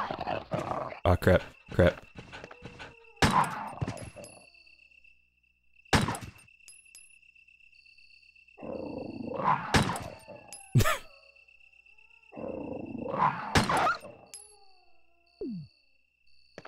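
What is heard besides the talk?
attacking dogs growling in the video game Resident Evil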